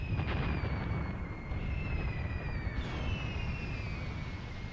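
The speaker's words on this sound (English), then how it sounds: "Russian artillery is falling." Russian artillery shells falling in Graviteam Tactics, a Kharkov 1942 battle, as a continuous low rumbling roar of distant explosions with faint whistling tones above, steady throughout.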